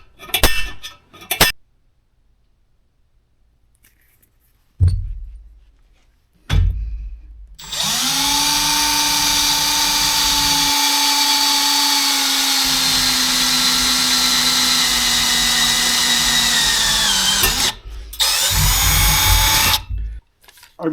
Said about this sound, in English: we're going to drill this thing out